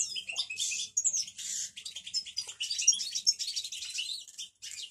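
Kept breeding birds in an aviary chirp and tweet almost nonstop, a dense chorus of high, overlapping calls close by with brief pauses and no talking.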